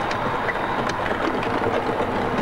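A model ICE train runs along its tracks with a steady, dense rolling rush and faint clicking, continuous and fairly close.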